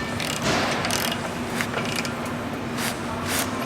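A torque wrench ratchets while tightening bolts on a John Deere planter in a farm shop, giving repeated close metallic clicks in short bursts over a steady mechanical hum.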